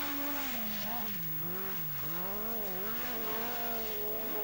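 Ford Escort rally car driving hard on a 1981 Welsh rallysprint stage, engine wailing and rising and falling steadily as the driver works through gears, loud and continuous throughout.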